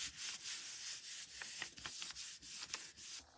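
Hands rubbing back and forth over paper while making a handmade card, a soft, close, continuous dry swishing with faint scratchy strokes and no talking.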